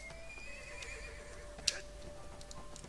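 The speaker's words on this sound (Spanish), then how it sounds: "Llamamos al caballo" A summoned horse in the online game ArcheAge gives a faint, short neigh over quiet ambient game sound, with a single sharp click partway through.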